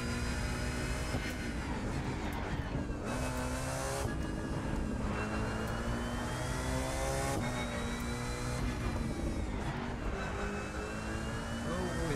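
A BMW Z4 GT3 race car's engine drones loud and steady in The Crew 2 racing game, its pitch climbing and dropping through repeated gear changes over a continuous roar.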